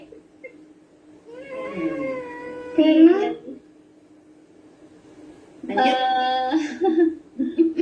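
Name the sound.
cat meowing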